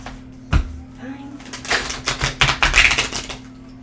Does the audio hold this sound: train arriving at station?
no